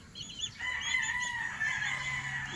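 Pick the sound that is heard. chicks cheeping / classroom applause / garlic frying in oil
chicks cheeping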